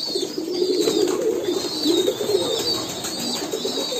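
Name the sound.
pigeons cooing at a pigeon farm while bathing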